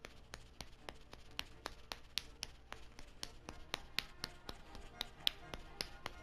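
Sharp finger snaps made with two stiffened fingers ring out in a fast, steady series of crisp, close clicks of fairly even spacing, with no talk over them.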